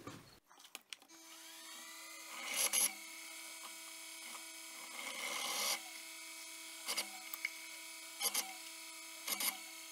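A drill cutting dimples into both sides of a steel knife blank for a simple budget hunter knife, a steady faint whine with several short louder bursts as the bit bites into the metal.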